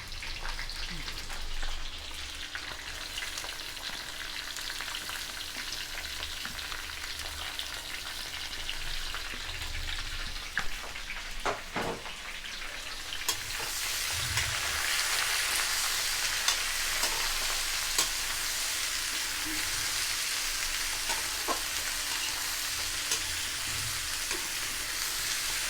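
Jackfruit pieces fry in oil for vegetable biryani, a steady crackling sizzle that swells noticeably louder about halfway through, with a brief clatter of utensils near the middle.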